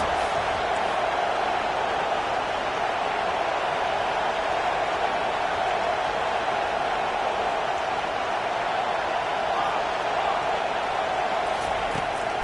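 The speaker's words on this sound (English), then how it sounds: "Listen to this crowd just shaking the girders of this place" A dense, roaring stadium crowd at a football game cheers steadily and loudly throughout, a continuous wash of noise with no breaks.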